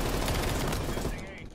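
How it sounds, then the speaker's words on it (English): Shotgun blasts ring out in Call of Duty: Cold War, loud and dense, with rapid overlapping bursts of gunfire and a voice speaking over the action. "I'm running in with a shotgun."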